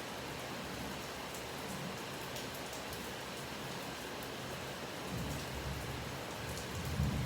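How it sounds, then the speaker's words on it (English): Steady rainfall in Lexington, Kentucky during a power outage: a continuous, even hiss of drops with occasional heavier spatters near the end and no talk. "I'm listening to this rainfall"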